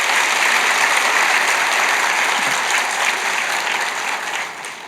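A church congregation applauds at an ordination service, dense loud clapping that holds steady and then eases slightly at the end, with no voices.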